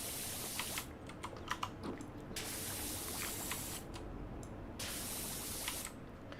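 A pressure washer sprays cleaner in the video game Power Wash Simulator, producing a steady hissing spray in long bursts broken by short gaps, with faint clicking in the background.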